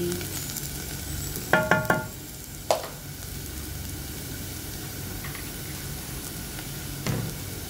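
Garlic frying in a pan as a base for cabbage with sardines, a soft continuous sizzle with a few sharp clanks of a utensil against the pan near the start and one more later.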